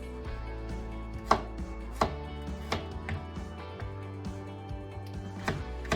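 Onions being chopped with a knife on a cutting board give a series of sharp, uneven thuds close by, spaced about half a second to a second apart, with no speech.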